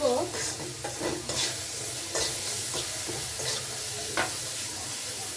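Spiny gourd (kakrol) sizzles in a little oil in a pan, a steady close frying hiss with occasional stirring scrapes, no talking over it.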